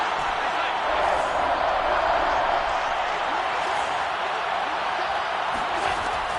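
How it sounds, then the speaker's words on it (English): Stadium crowd at an American football game building up before a big third down, a continuous, loud, dense roar of many voices with no clear breaks, heard from within the stands' broadcast mix. "the crowd getting into it as we come up on a big 3rd down"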